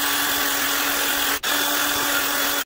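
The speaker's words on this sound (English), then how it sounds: "I don't want to drill it out too much where I weaken the nipple." A power drill runs steadily to enlarge a hole in a custom RC boat part, loud and close with a continuous whine, briefly cut off twice.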